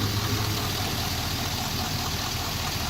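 A car with an LS2 V8 engine idles steadily, a continuous low rumble close by with no talking over it.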